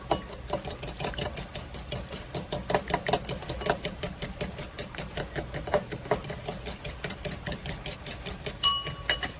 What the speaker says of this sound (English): now we're gonna whisk the egg yolks just a little